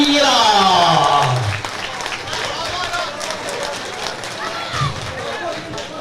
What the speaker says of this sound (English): please keep your applause going for our opponent, Cara Muhan